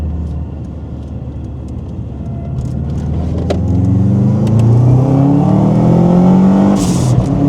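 A Subaru Brat fitted with a WRX turbo engine accelerates hard, its engine note climbing steadily and growing louder over several seconds, with no talking over it.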